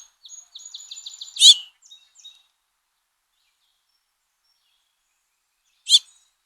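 A house finch gives a quick series of bright chirping calls, followed by a sharp louder note, and one more sharp call a few seconds later after silence; close and clear with no other sounds.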